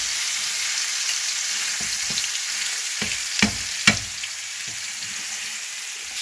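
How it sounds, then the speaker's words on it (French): A pork tenderloin sears in a hot pan with a continuous, close sizzle, punctuated by a few sharp clinks and scrapes from stirring or turning the meat. "C'est très important pour saisir une viande."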